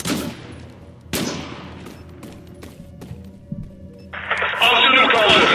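Gunfire in the online shooter Zula, with bursts of rapid shots and sharp single cracks between quieter gaps, then a dense burst near the end. Players talk over the action.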